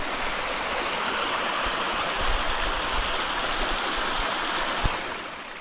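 Steady rushing of a flowing stream near the Pandav cave in Dang, broad and continuous throughout, with a faint knock near the end; no voices.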